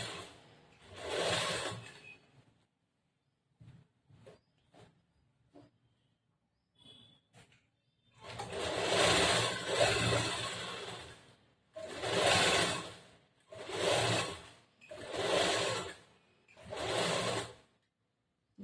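A sewing machine stitches piping onto a plain blouse in a tailoring lesson: close, loud bursts of rapid stitching, one longer run followed by four steady runs, separated by pauses with small clicks and handling noises.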